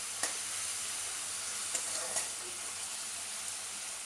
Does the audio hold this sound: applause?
no